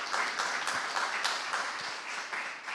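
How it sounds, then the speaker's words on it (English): An audience at a university business invitational event claps together in a moderate, continuous round of applause, the individual claps audible throughout and fairly close. "Round of applause, please."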